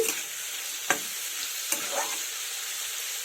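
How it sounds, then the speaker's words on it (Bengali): Potato, carrot and onion frying together in a pan for vegetable egg bhurji, a steady sizzling hiss with a few sharp scrapes of a spatula stirring them, close and without talk. "আলু গাজর পেঁয়াজ সমস্ত কিছু একসাথে নেড়ে নিয়ে"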